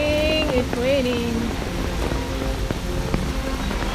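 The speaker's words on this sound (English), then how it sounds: "It's raining." Steady rain falling on a Munich street, a constant hiss of drops on surfaces, with a passing whistle-like tone and faint background murmur over it.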